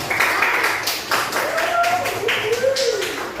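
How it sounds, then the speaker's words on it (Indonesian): A classroom of pupils claps in a quick, steady rhythm, several sharp bursts in a row, while voices talk over the clapping. "Tepuk tangan."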